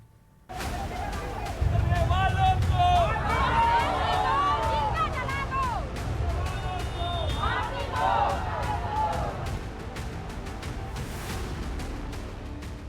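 An angry crowd in Durg, Chhattisgarh, besieges a police station, a dense roar of shouting voices with individual cries rising and falling over the constant din, loud and close throughout.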